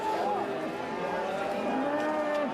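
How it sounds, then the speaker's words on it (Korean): Several cattle moo at a large, busy livestock market where about a hundred cows change hands, loud overlapping bellows with rising and falling pitch set against a constant crowd murmur. "새벽부터 우렁찬 소 울음소리로 가득했는데요"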